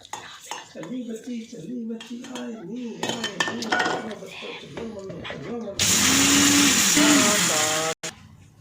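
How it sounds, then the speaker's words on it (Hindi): Someone talks over clinking jars and kitchen handling, then a mixer grinder jar loaded with spices and broken chillies for amla chutney roars loudly for about two seconds before cutting off abruptly. "ये जो मेरे मसाले हैं ये भी अब जाएंगे मसाले वाले जार में जिसमें मसाले ग्राइंड होते हैं।"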